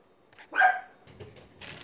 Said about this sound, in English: My dogs see people.